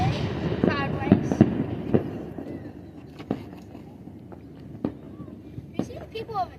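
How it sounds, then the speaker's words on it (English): Small fireworks set off by people celebrating at a July 4th show in Louisa, Kentucky, popping as scattered sharp cracks at a distance over steady crowd noise and voices. "You see the people over there celebrating with small fireworks?"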